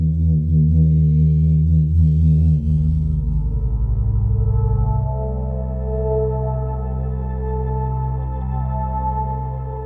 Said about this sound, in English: a long bamboo stick bowed on the large taiko and processed to sound like a dreamy pad